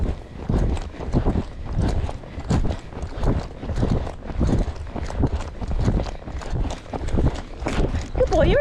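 The hooves of a young horse beat a quick, even rhythm on open ground under saddle at a canter, loud and close to the rider, with light breathing and creaking tack between strides.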